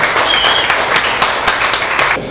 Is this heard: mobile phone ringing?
no